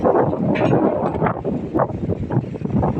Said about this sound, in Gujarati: અત્યારે પવન એકલો છે વરસાદ નથી પણ લગભગ વરસાદની તૈયારી છે